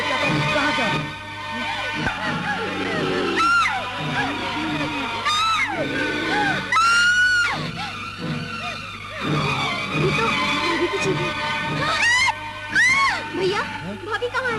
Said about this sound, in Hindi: ये तो भाभी की चीखें हैं।